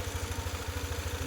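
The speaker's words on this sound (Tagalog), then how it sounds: "At na-drain yung battery ng aking motor. Kaya pinapainit ko pa." Low, steady motorcycle engine idling to warm up after its battery drained, a rhythmic mid-low putter repeating evenly and close by, with no talk over it.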